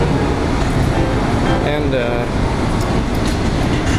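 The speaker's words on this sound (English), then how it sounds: "The doors are closing. This train is departing." A Denver Airport underground train departs and runs between concourses, giving a loud, steady rumble with a brief rising whine, with voices heard over it.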